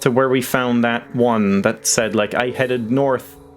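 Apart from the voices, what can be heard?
No everyday noises stand out.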